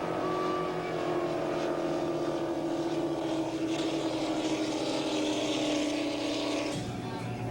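Offshore racing powerboats in a UIM2-class race on open water, a steady loud engine drone holding throughout with wind and water noise, a lower rumble dropping out near the end, under faint commentary.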